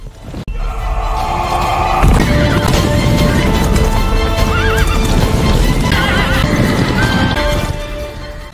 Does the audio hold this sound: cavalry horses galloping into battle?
yes